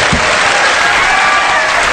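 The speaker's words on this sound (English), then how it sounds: "I am applauding for you." Steady applause from a group fills the whole stretch, a dense even patter of clapping with no voices over it.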